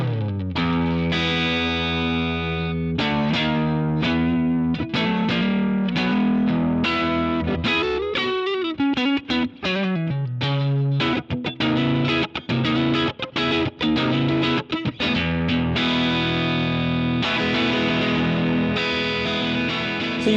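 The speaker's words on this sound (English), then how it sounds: "This is the JSA Effects Nightingale," Electric guitar played through a JSA Effects Nightingale pedal, a small-builder effects unit, giving a loud, continuous run of chords and picked notes with a saturated, modulated tone and no talking.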